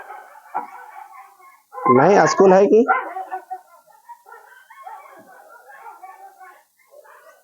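A dog barks in a loud burst of several rapid barks nearby, cutting across someone talking in Hindi during a lesson, with speech continuing before and after.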